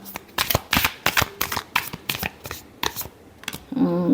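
Tarot cards are shuffled in a rapid series of crisp, close riffling bursts, about ten quick strokes, followed by a short voice at the end.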